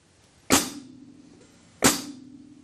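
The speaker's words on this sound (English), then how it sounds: "Now let's take a look at the hi-hat foot pedal" Two crisp metallic chicks from a hi-hat closed with its foot pedal, about a second apart, each a sharp closing hit with a brief ringing tail, alone with no talking.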